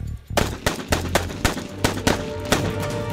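Rapid gunfire from a firefight in a house courtyard, about ten sharp cracks in quick irregular succession over a low rumbling bed, loud and close with no voices.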